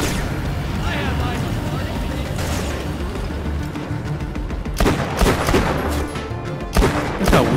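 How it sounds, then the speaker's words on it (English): Gunfire from a weak little gun in the video game Borderlands: The Pre-Sequel, several sharp shots in quick clusters toward the end over a dense, noisy game soundscape. "Look how weak my little gun is."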